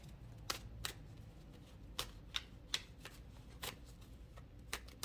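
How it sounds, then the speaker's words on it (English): Tarot cards being shuffled and cut, a quiet series of crisp riffling snaps at uneven intervals, close up with no talk. "Let me cut these cards."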